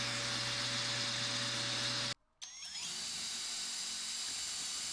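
A power drill bores a pilot hole in wood: a steady high whine cuts out for a moment, then starts again and continues at an even pitch, close and without speech.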